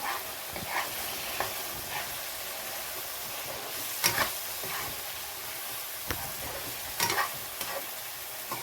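Ginger garlic paste sizzles in hot oil for a spinach and liver fry curry, a steady, fairly loud frying hiss dotted with sharp pops and spatters, plus a few spoon-stir clicks; no one speaks.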